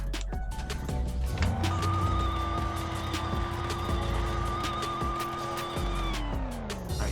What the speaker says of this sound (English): And here's what the GT500 sounds like.